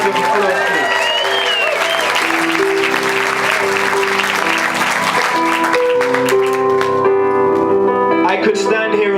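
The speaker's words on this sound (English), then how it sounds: "Can we give Mo Siegel a big round of applause, please?" Audience applause for Mo Siegel at an event, steady clapping that fills the room at a loud, even level, with sustained music tones underneath and voices mixed in.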